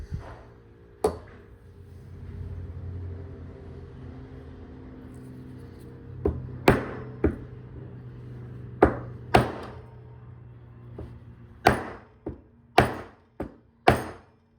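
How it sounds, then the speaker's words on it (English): Sharp metallic hammer blows driving in a drive center, a dozen or so spaced irregularly and then quicker near the end, ringing out over a faint low hum. "now I'm gonna hammer in the drive center"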